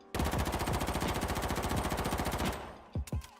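Loud, rapid automatic assault rifle fire from the H1Z1 video game rattles out in one sustained burst of closely spaced shots, stops, then two separate single shots ring out.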